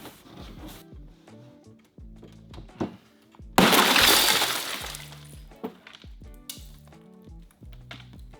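Glass of a Toyota GR Supra breaking free as it is cut out with wire: a loud, sustained crunching shatter near the middle, amid scattered clinks, taps and handling knocks before and after.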